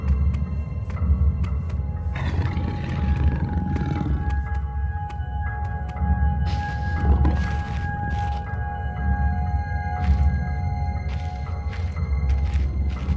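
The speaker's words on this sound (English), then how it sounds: "There is a wolf down here." A wolf in the video game Penumbra: Overture, set in a military shelter in Greenland, lets out low, drawn-out roaring growls over a deep rumbling ambient drone, with some sharper bursts standing out.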